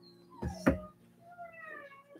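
A pet dog in a living room gives a few soft whimpers and whines, two short louder cries followed by thin, fading whines, close by and faint, with no talking.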